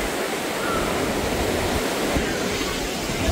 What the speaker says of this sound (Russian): плещет вот такой ливень сильный